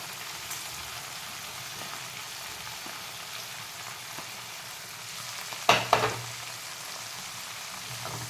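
Chopped onion goes into a pan of half-cooked green peas, frying with a faint, even crackle; a brief sharp clatter and a short burst of louder sizzling stand out near the end.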